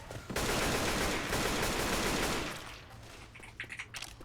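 Rapid gunfire from the Left 4 Dead 2 zombie shooter game, a dense burst of automatic shots lasting about two seconds, then tapering into a few scattered quieter shots.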